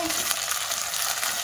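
Steady sizzling and frying in a pan, with faint scraping as cluster beans (guvar) are stirred for a village-style curry, continuous and fairly close.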